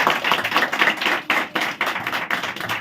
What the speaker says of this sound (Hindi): आइए एक इस गवाही के लिए प्रभु की महिमा करो, ताली बजा के।